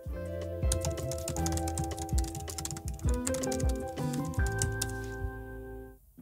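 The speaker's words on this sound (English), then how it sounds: "I can just quickly type in what I want to do" Rapid typing on a computer keyboard, a dense run of close key clicks over a steady backing of sustained musical tones that cuts off near the end.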